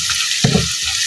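Onions frying in a pan for dhaba-style mash dal, a brief close sizzle with a single soft stirring scrape in the middle.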